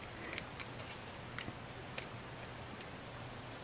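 Scissors snipping through a stack of post-it notes, a few sharp, brief cuts spaced irregularly over steady faint background hiss.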